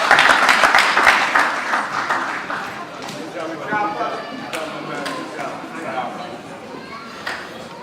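An audience applauds at an 8th grade graduation ceremony for the class of 2024, with a dense burst of clapping at first that thins out to a few scattered claps, some voices heard under it.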